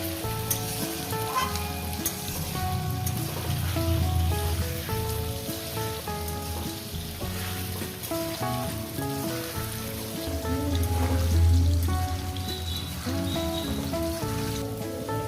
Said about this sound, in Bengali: আলুটাকে সুন্দর করে লাল লাল করে ভেজে নিয়েছি